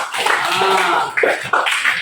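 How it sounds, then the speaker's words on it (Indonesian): A classroom of students claps for a classmate named Gilda during a school lesson, a dense, steady patter of hand claps lasting about two seconds with a few sharper bursts, fairly loud and close. "Tepuk tangan untuk Gilda."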